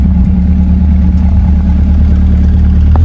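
A Corvette C8 Z06 fitted with a Corsa exhaust holds a loud, deep, steady engine drone at close range, a constant low rumble without clear rev swells and no talking.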